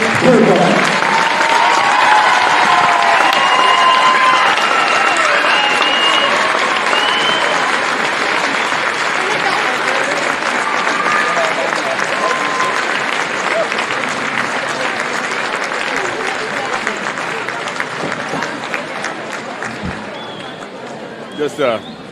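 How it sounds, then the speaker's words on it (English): Basketball fans in a high school gym give a long, loud round of applause for a coach, with cheering and whoops that slowly taper off over about twenty seconds while voices carry in the background. "give a well-deserved round of applause to Coach Renee Turpa"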